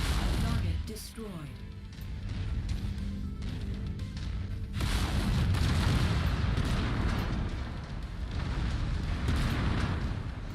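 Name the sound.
explosion of destroyed target in video game MechWarrior 5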